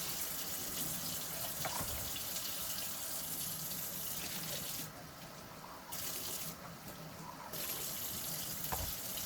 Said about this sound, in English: I am rinsing these out now.